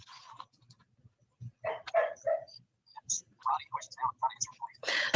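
Dogs bark in a series of short, close bursts, mixed with voices in the room.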